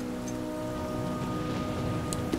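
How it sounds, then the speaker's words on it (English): Rain falls steadily in the survival game The Flame in the Flood, a constant patter with a low tonal hum beneath, no voices. "Let's take some shelter from the rain."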